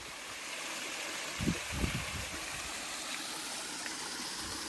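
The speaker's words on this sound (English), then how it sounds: "There's nowhere near as much water flowing as there was last time, but that's to be expected." Steady, gentle rush of a flowing stream, constant and moderately quiet, with a couple of soft low thumps partway through.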